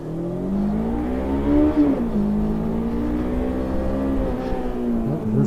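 A 1999 Honda CB 500 motorcycle engine revs hard from a standstill, loud and close, its pitch climbing and then dropping briefly as it shifts gear before pulling on.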